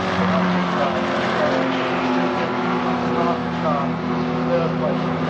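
Classic race cars contest the Cockshoot Cup at Silverstone in an MGCC Motoring Classics Thoroughbred race, engines droning steadily and loud throughout while commentary talks over the track noise.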